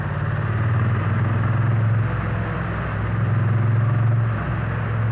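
A Triumph Bonneville T100 motorcycle engine runs nearby with a steady low rumble and one mild swell in revs partway through, with no voices.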